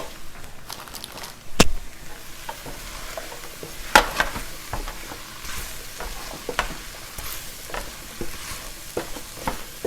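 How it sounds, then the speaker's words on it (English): A spoon stirs flour into vegetables in a pot for chicken pot pie, scraping and knocking against the pot over a soft sizzle, with a few sharp clicks and uneven, intermittent strokes close by. "We'll give it a good mix, and we're gonna cook this for about a minute or 2 because you want to get the white flour cooked"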